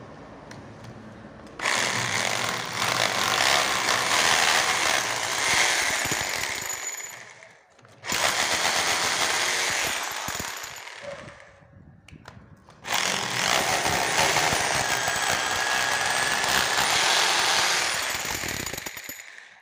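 Electric drill boring into a wall for wall plugs to mount the upper track of a window, with drill bits of 4 and then 6; three long loud bursts of whining, grinding drilling separated by brief pauses, close by.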